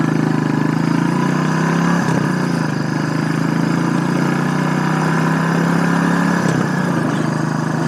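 A 2007 Suzuki S40 Boulevard single-cylinder motorcycle engine runs at a steady, loud throb close by, with slight dips in pitch around a couple of moments and no speech.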